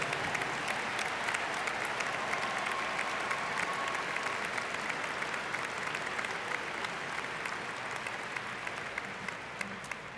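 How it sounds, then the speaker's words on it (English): Sustained applause from a large audience at a high school graduation ceremony, a dense, even wash of clapping that continues steadily for the full ten seconds. "I'd like to ask the audience to please give a round of applause for this team effort"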